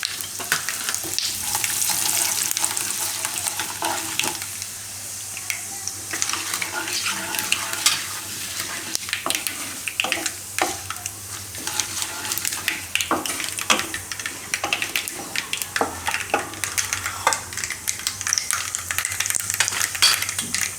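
Cumin seeds, white sesame, curry leaves, asafoetida and dried red chilies crackle as a tempering in hot oil on low heat, with a steady sizzle and frequent stirring clicks and scrapes throughout.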